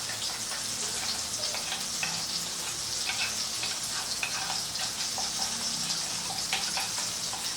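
Food frying in hot oil in a pan while cooking a young jackfruit (echor) curry: a steady, dense sizzle with crackling pops runs unbroken at close range, with no voices.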